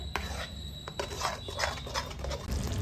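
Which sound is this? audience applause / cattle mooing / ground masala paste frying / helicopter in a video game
ground masala paste frying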